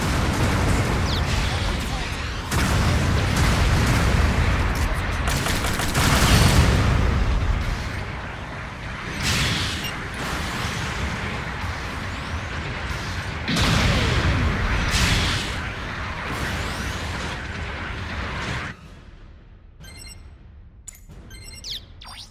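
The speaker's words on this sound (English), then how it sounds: "Long range supporting fire incoming." Long-range supporting artillery fire explosions in Gundam Battle Operation 2 gameplay, a dense barrage of loud booms and bursts rumbling continuously for most of the clip before thinning out near the end.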